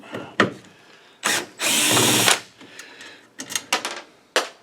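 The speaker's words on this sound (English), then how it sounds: "so I got to get all those screws out on the bottom" A power drill backs screws out of the underside of a Wolf Cinema TXF-500 DLP projector, with several short whirring bursts and one longer sustained run, plus clicks and handling knocks between them, close and loud.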